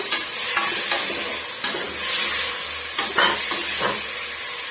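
Elephant foot yam and toor dal are sautéed in a pan, giving a steady soft sizzle with occasional scraping stirs, close and without talk.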